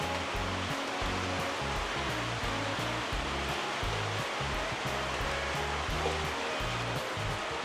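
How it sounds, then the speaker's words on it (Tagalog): Water is poured into a pan of pork chop marinade for a Filipino pork steak, giving a continuous loud rushing, sizzling hiss with a rhythmic low beat of background music beneath it. "ilalagyan natin ng konting tubig pa para ho may sabaw yung ating pork steak Tagalog"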